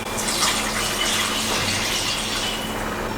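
A steady, close gush of 1.5 cups of water pouring into a pan of mixed vegetable curry, continuous and fairly loud throughout with no talking.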